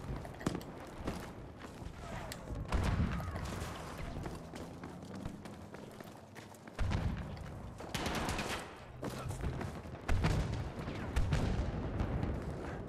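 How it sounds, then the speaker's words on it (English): Gunfire in a Battlefield 5 multiplayer match crackles in repeated sharp bursts and volleys, with heavier clusters of shots breaking out over a background of battlefield noise. "I'm getting shot at and I don't know where it's at."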